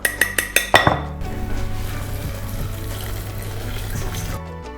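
A short run of clinks from a pot or utensil, then steady running and sloshing water while a bean mixture is stirred in a pot, with roughly 700 ml to a litre of water added. The sound is moderately quiet and there is no talk.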